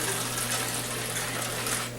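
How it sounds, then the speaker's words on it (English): Cooking liquid poured into a foil packet over slow-cooked pork ribs, a steady close trickle and splash that runs evenly for about two seconds before easing off. "Now what you're going to do is just pour your liquid"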